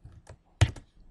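A few keystrokes tapped on a computer keyboard while entering a formula in an Excel spreadsheet, with one louder key strike in the middle and quiet, close-up clicks around it.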